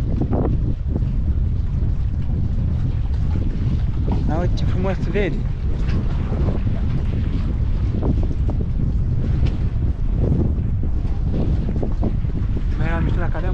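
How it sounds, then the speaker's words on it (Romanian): Steady cold wind on an island buffets the microphone with loud low rumbling throughout, while a person speaks briefly over the roar. "bătea vântul și mă ducea"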